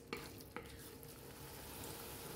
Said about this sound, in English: Cook this, stirring continuously for a couple of minutes.